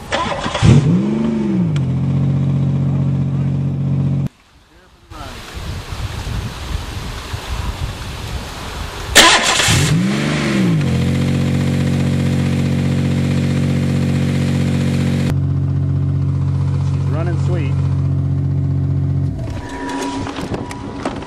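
A Buick crushed twice by a 20-ton dozer revs hard as it tries to move. The loud, close engine drones and surges through long sustained stretches, drops out briefly, then roars back, with no talk.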